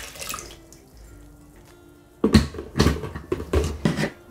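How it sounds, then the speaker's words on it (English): Running water rinses leftover paper pulp out of a mold in a basin during homemade papermaking, a soft trickle at first, then louder splashing bursts in quick uneven surges close by. "Rinse out the rest of the pulp in here."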